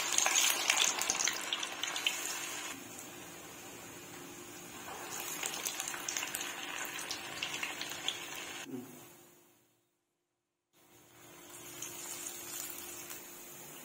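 Vada batter shaped with a hole in the middle sizzles in hot oil: a steady, bright crackling hiss that cuts out briefly, then resumes more softly.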